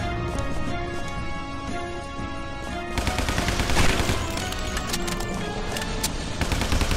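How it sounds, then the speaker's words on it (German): Rapid bursts of gunfire in the video game Guns, Gore and Cannoli crackle continuously over a dense, busy background, growing louder and denser partway through. "Der Bulle, ey, wie die einfach nur drauf rumschießen."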